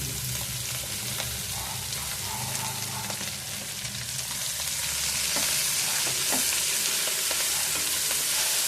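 Spinach hits a hot onion tempering in a pan for a spinach-and-moong-dal dish, giving a steady, dense sizzle with crackles and stirring throughout, no voices.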